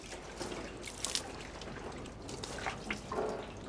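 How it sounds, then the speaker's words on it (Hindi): Dishes being scrubbed under a running tap, with steady trickling, dripping water and occasional clinks of utensils, faint and close, with no talking. "लवलीन तू बर्तन मांजते हैंडसम लगता है।"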